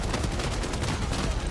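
Dense, continuous barrage of gunfire and explosions from a video game played on an RTX 5060 graphics card, loud and unbroken with rapid bursts throughout.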